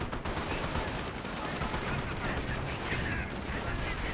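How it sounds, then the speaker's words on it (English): Sustained gunfire from a strafing run in the World War II strategy game Company of Heroes, a dense continuous rattle of shots and battle noise at steady loudness for several seconds, with faint commentary underneath. "Ooh, a nice strafing run there."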